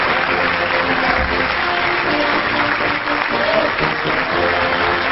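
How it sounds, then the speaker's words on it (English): Loud, sustained studio audience applause greeting a novelist's arrival on a comedy chat show, steady dense clapping throughout with a faint crowd murmur. "Dip thy quill and clappeth loud for Britain's greatest living novelist, Lawrence Camley."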